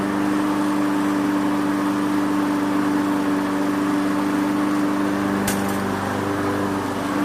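A repaired lawnmower engine found by the roadside runs at a steady idle, a constant close hum with a brief tick partway through, no voices.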